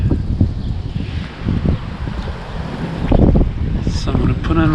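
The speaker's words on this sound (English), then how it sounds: "it's getting a little windy." Gusty wind buffets a nearby microphone, rumbling and swelling in bursts, with a voice talking in places.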